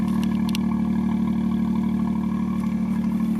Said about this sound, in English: Suzuki Sport exhaust.